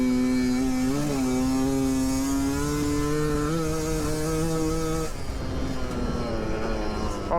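A 2021.5 GPX Moto TSE250R motorcycle with a Keihin PWK 38 carburettor hums under riding, its engine note rising and dipping through gear changes, loud and steady with wind rush throughout.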